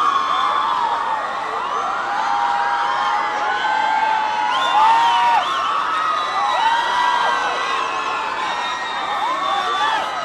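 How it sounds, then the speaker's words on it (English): A live concert audience for a Bollywood film song performance shouts and whoops loudly, a dense wash of many voices cheering continuously with shrill calls rising above the crowd. "we need you to give them a big round of applause!"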